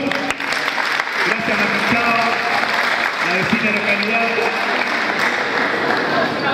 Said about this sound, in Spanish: un aplauso para CHAO Niña Sur